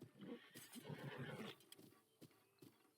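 A horse in Breath of the Wild whinnies loudly and close for about a second and a half, then a few faint thuds and clip-clop hoofbeats follow.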